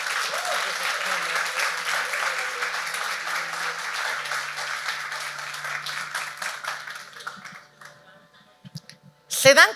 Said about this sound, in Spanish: Denle un aplauso al Espíritu de Dios.